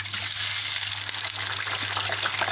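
Potato fingers soaked in water and vinegar drop into hot oil in a frying pan, setting off a loud, steady hiss and sizzle that carries on without a break, heard close up.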